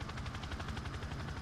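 A helicopter killstreak in Call of Duty: Modern Warfare II, heard as a rapid, pulsing rotor chop that is faint and distant, lasting only a moment.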